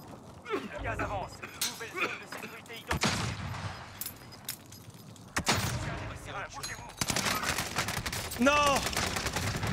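Gunfire in Call of Duty: Warzone Pacific replayed on a killcam: sharp bursts of shots and rapid automatic fire, with loud cracks near the start and middle, over a busy game background.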